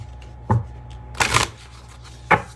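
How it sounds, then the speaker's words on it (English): Oracle cards shuffled close up in three quick bursts, the middle one longest, with short pauses between and no talking. "I'll be pulling from the Stay Inspired Oracle cards by Sister Moon Tarot"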